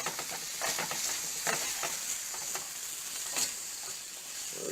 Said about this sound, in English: Then the salt and the pepper. Stir that around.